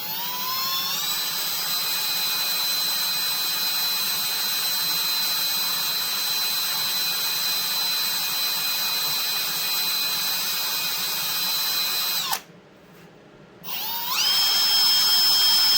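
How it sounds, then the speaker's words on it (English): A power drill whines at high speed drilling holes, spinning up and running steadily, briefly stopping, then spinning back up again. "I'm gonna drill one more hole in this one"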